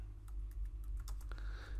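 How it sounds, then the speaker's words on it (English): A short burst of rapid keystrokes on a computer keyboard, close and clear, with clicks in an uneven rhythm and no voices. "if I can type correctly here."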